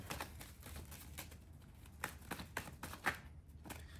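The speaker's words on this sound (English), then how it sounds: "I'm shuffling these cards" Tarot cards being shuffled by hand, faint repeated riffling flicks in quick irregular bursts.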